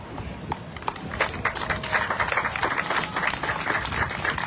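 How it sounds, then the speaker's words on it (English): An audience at a devotional gathering glorifying spiritual teachers starts clapping with scattered claps, then builds into louder, denser applause that carries on to the end. "Clap louder."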